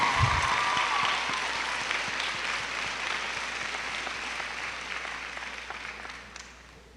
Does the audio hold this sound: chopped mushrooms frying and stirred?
no